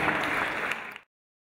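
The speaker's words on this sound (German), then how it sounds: "Applaus" A cabaret audience at a company's tenth-anniversary celebration applauds, a dense burst of clapping that is cut off abruptly after about a second.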